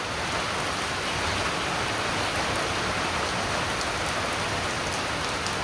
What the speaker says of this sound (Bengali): এই দেখেন বৃষ্টি রোদ ওড়ে বৃষ্টি নামে